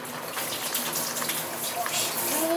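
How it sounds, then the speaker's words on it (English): Tap water runs steadily from a faucet while hands are washed in a home kitchen, a continuous close hiss with faint voices in the background. "Wash your hands."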